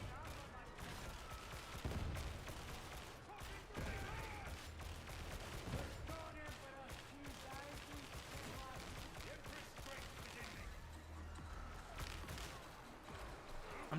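Las carbine fire in the video game Darktide, a steady wash of repeated energy shots and muffled booms throughout, faint and mixed with game ambience.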